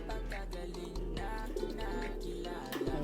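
Fancy pigeons coo repeatedly nearby, soft rolling calls over a steady low hum, with a few brief bird sounds mixed in.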